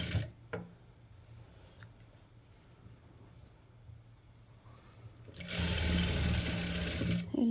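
A sewing machine top-stitches the lining edge of a sweetheart neckline. Faint ticks and handling of cloth come first, then the motor starts up and runs in a loud, steady, close whir for the last couple of seconds.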